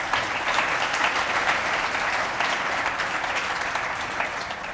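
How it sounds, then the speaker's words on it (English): An audience at an industry panel on quantum applications applauds its panelists, a steady, dense wash of clapping from a crowd that holds evenly loud throughout without fading. "just a quick round of applause for our panelists"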